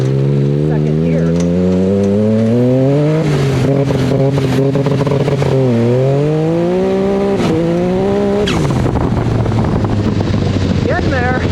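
Engine of a Mirage buggy with a 300hp+ Moon tune, running 30 psi of boost on trails, revs hard and rises in pitch through repeated pulls, loud and close, with a person speaking over it.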